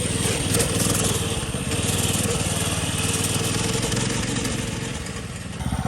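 A small minibike engine runs steadily at close range, a continuous buzzing drone with a slight throb, holding fairly constant loudness throughout with a brief dip and a rougher burst near the end.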